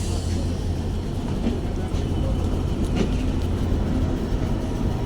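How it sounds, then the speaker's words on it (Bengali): Benapole Express intercity train at a railway crossing, heard as a steady loud rumble with a faint rhythmic clatter throughout, mixed with background voices. "ক্রসিং হলো বেনাপোল এক্সপ্রেসের সাথে।"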